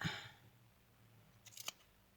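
Scissors snipping a small piece off a blue-dyed crochet doily during a crafting session: a few quick, quiet snips clustered near the end, preceded by a soft rustle.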